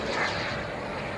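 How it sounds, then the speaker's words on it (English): Jet airplane engine powering up as the aircraft pitches out into the downwind at a Kentucky air show, a steady broad roar heard at a distance with no voices. "Throws the power into it as he pitches out into the downwind."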